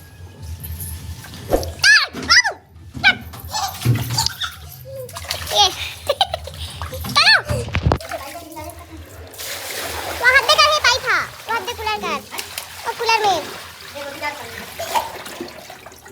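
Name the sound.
child splashing and playing with water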